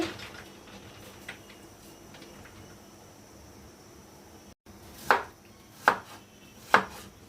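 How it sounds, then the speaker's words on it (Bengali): A knife cutting papaya into small pieces on a board for papaya halwa: quiet kitchen background, then three crisp, separate cuts close by, spaced under a second apart, with no talking. "ছোট ছোট করে টুকরো করে কেটে নিচ্ছি পেঁপেগুলো।"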